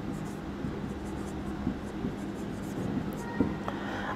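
Steady scratching of a pen writing math equations on paper, soft continuous strokes with a few small taps, close and fairly quiet against a faint background hum.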